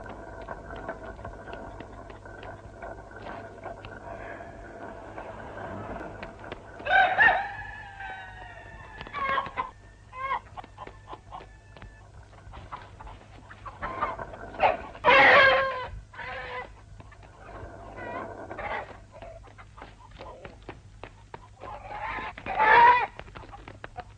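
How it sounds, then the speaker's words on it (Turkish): A rooster clucks and calls in short bursts, with a few louder crowing cries spaced apart over a low steady hum. "Horozu getir gelin horozu."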